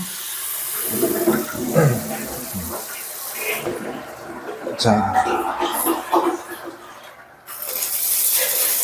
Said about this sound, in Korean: 자, 화장실도 물이 잘 나옵니다.